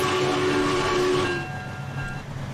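A Minecraft train at full throttle running at speed, a sustained horn-like whistle tone over rolling rumble that fades down after about a second, leaving a quieter rail rumble.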